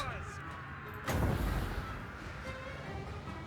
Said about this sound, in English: A lot more ranged units all shooting at it. We've got gunners, we've got crossbowmen.